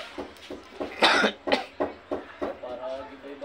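A person coughs repeatedly in a home beside a bed, a series of about eight sharp, close bursts at uneven intervals over a low background hum, one cough louder and harsher than the rest.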